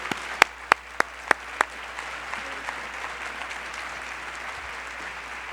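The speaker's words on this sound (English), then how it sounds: "I would like a very loud round of applause" A loud round of applause from an event audience opens with several sharp, distinct close claps, then settles into a steady roar of many hands that carries evenly to the end.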